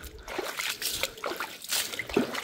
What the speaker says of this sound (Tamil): தண்ணி நிறைந்து வலிந்து கொண்டே இருக்குது பாருங்கள்